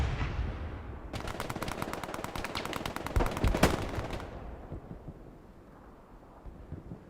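Rapid machine gun bursts and rifle shots ring out in a multiplayer war video game battle, a dense, loud run of evenly spaced shots lasting about three seconds, with heavier booms near the end before the firing fades into ambient rumble.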